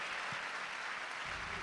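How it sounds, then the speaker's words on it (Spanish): Steady, dense applause from a church congregation at a Buenos Aires crusade service, broad and sustained through the whole moment with no voices standing out. "la vamos a recibir con un aplauso glorioso"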